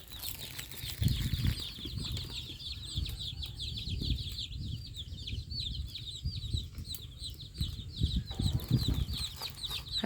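Chickens being raised on a farm cluck and flap their wings in a steady, busy chorus, with a dense layer of high chirping and rustling going on throughout and low thumps and movement underneath.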